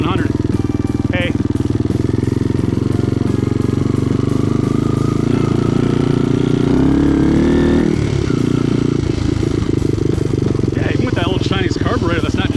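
A vintage Honda XL trail bike, running an engine swap and an unjetted Chinese carburetor, is ridden with a loud, constant engine drone close by. Throttle rises and falls briefly midway, and a rider's voice cuts through now and then.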